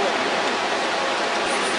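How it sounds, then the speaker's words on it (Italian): Iguazu Falls on the Brazilian side fills the air with a constant, broad roar of falling water, steady and enveloping, with no breaks or distinct events. "Stiamo scendendo verso il fondo della cascata."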